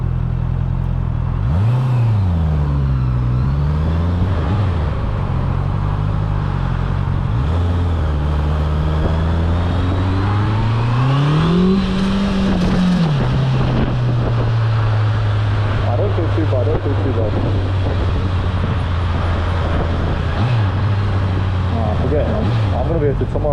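Honda CBR650F motorcycle engine heard from the rider's seat, a loud continuous inline-four drone that rises and falls with throttle blips and revs, with wind rush throughout and a voice talking over it.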